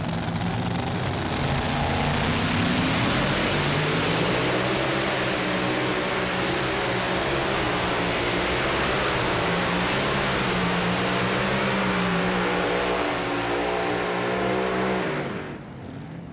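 A mini rod tractor puller roars at full power through a pull at the Farley Nationals, its engine note loud, sustained and close, rising and wavering for about fifteen seconds before easing off at the end.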